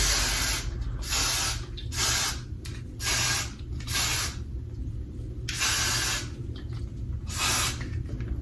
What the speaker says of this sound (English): I'm finna spray this.